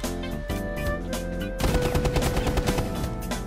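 A primary weapon in Rainbow Six Siege fires in rapid bursts of gunshots, dense and loud, growing into sustained automatic fire partway through.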